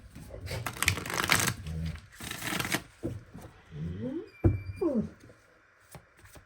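Tarot cards being shuffled in several quick riffling bursts, close up, with a soft voice murmuring briefly between them.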